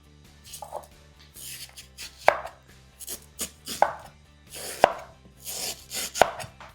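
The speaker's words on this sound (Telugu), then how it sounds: "ఫస్ట్ మామిడికాయని ఇలా కట్ చేసేసుకోండి." A knife cuts through raw mango on a board in a series of about eight close, sharp chops at an uneven pace, with quiet scraping between strokes and no talk.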